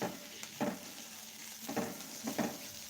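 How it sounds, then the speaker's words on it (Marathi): Onion sautéing in a pan for a chutney, a soft steady sizzle with a few louder stirring scrapes at intervals. "इथं कांदा चांगला परतलेला आहे"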